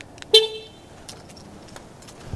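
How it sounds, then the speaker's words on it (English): A Mitsubishi Lancer is locked with a remote, giving one short, clear horn chirp up close. Faint clicks and rustles follow in a quiet outdoor setting. "Gonna go ahead and lock up the SI"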